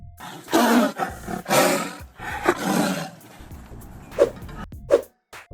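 A tiger roars several times in deep, rough bursts, loud and close, with shorter growling roars near the end before a sudden stop; no talking.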